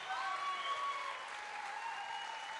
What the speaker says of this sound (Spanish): Muy merecidos esos aplausos, Guillermo, gracias por estar aquí.